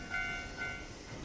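Train ride in the video game Nostalgic Train: a steady low rumble of a moving railcar with two short tonal whistle-like squeals, moderately quiet and without voices.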